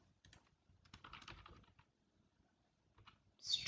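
Answers being typed on a computer keyboard, with quiet, close, irregular clusters of key clicks separated by pauses and a brighter click near the end.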